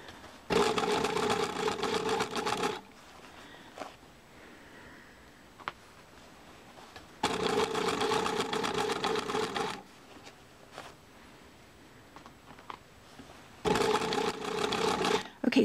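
A sewing machine stitches a baby sailor dress in three separate bursts of rapid mechanical whirring, with quiet handling noises between runs.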